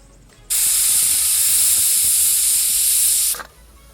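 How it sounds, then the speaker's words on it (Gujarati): A pressure cooker with its lid closed vents a loud, steady hiss of steam that starts abruptly and runs for about three seconds before cutting off, heard alone without talk. "કુકરનું ઢાંકણું કરી દીધું બંધ. ધીરે ધીરે સુસુ થાય."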